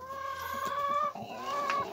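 Chickens cluck and a rooster calls nearby, with overlapping bird vocalizations in a farmyard setting, fairly loud and continuous.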